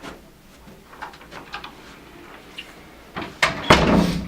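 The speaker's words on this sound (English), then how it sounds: "Please close the door." A door swings shut in a quiet room, starting with soft shuffling and handling sounds and ending in a sharper knock and thud from the latch and close.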